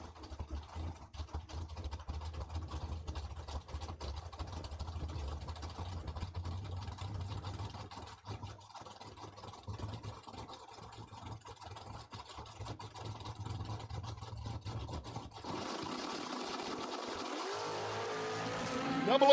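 At Cordova Dragway, a Firebird and an 84 Kawasaki make a drag race run, their engines buzzing and roaring from a distance, fairly faint with a steady drone and a shift in tone near the end.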